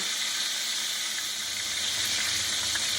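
Country fried steak browning in a hot pan, a steady close hissing sizzle that holds evenly throughout without talk.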